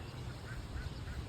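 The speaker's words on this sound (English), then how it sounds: "Look at the ducks." Ducks quacking outdoors on a nature walk, a few soft distant calls spread over a low steady background of ambient noise.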